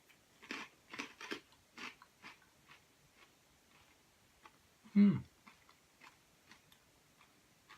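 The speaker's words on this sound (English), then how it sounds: "that crunchy saltiness of that pork crackling" Crunchy, salty pork crackling bitten and chewed alongside a whiskey tasting, heard as a run of close, sharp crunching clicks followed by one louder bite.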